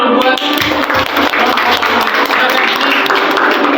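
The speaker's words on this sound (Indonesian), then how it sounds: "Tepuk tangan dulu buat." An audience applauding after a talk on coding and artificial intelligence, loud dense clapping that carries on steadily throughout, close and without speech.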